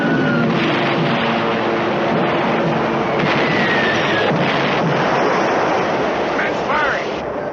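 A submarine firing torpedoes from the surface in a 1958 war film, a loud, steady wash of rumbling noise and blasts with a few faint tonal whistles, filling the whole passage.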